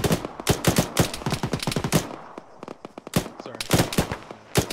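Rapid bursts of enemy gunfire in the military video game Arma, sharp cracks in quick clusters with short pauses, loud and close, sounding like automatic and single shots mixed.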